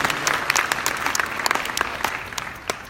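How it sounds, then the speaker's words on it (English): Applause from an audience at a Salt Lake Comic Con press conference, a dense patter of clapping with sharp individual claps standing out, fairly close and steady before easing slightly at the end. "So can you give these guys from Wheelchair Magic a huge round of applause?"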